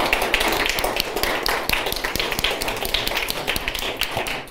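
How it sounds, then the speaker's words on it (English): A round of applause from the audience at a community awards meeting in Amsterdam: many hands clapping in a dense, even patter that lasts throughout. "Please give also a round of applause to Antti Jogi Poikola, Kai Kuikkaniemi, Kuhn de Jong,"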